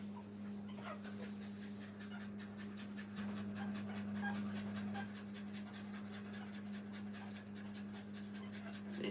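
Quick rhythmic panting with small squeaks and snuffles from five-day-old puppies nursing on their mother, close by, over a steady low hum.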